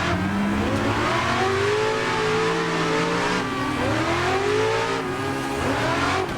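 A BMW E36 M3 engine revs hard while drifting in the video game Klutch Kickers, a loud, sustained roar whose pitch rises and falls with the throttle, with faint tire squeal underneath.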